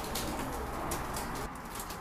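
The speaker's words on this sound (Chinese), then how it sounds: "今天最担心的一羽鸽子回来了" A homing pigeon back from a 40 km training release coos softly and continuously, with a low muffled murmur close by and no voices.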